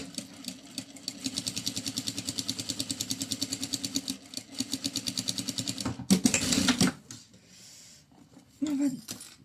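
Sewing machine topstitching a fabric pouch in a fast, even rhythmic chatter of stitches that stops after about six seconds, followed by fabric handling noises and a brief short burst of stitching near the end.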